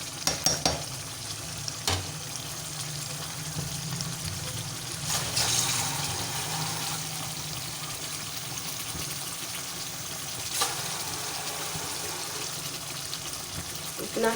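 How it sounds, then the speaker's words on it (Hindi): Water poured into a pot of aloo gosht cooking in ghee, giving a hissing, bubbling sizzle with stirring clatter and a few sharp knocks throughout, close up. "अब हम इसमें पानी ऐड करते हैं।"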